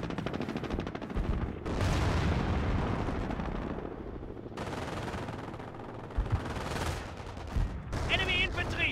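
Intense gunfire fills a Company of Heroes city battle in the Falaise pocket, with rapid machine-gun bursts, rifle shots and heavy booms of artillery and explosions layered densely throughout.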